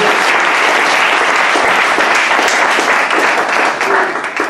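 A church audience at a Bible institute graduation ceremony applauds loudly and continuously, dense close clapping that fills the whole stretch and tapers slightly at the end.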